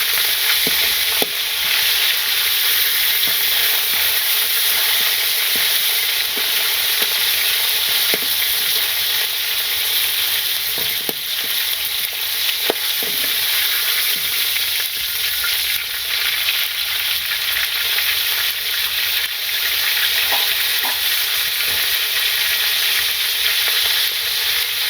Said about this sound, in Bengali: মাছটা ভাজা হলে এর মধ্যে পটল দিয়ে দেবো।